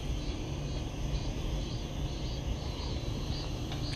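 Dense, steady insect chorus of summer cicadas surrounding a small fishing reservoir in Gyeongsan, a continuous buzzing drone filling the whole stretch with no talk.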